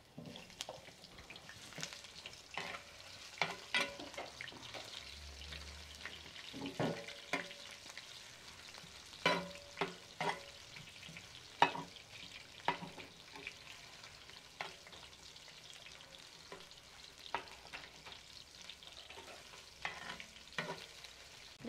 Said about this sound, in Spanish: Ya que se frió tantito la cebolla,